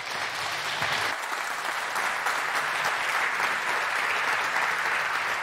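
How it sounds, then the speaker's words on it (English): Warm, sustained applause from a conference audience welcoming a speaker, a steady dense wash of clapping that continues without pause throughout. "I would like to ask you to welcome her with a very, very, very warm round of applause, is Chantal with It's Not Just Stalkerware."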